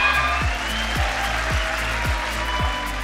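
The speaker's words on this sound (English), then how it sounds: "I'm ready for a cheer now" An audience at the SME MK & Buckinghamshire Business Awards 2024 ceremony applauds and cheers as a gold winner is announced. Dense, continuous clapping fills the room over a regular, thumping beat.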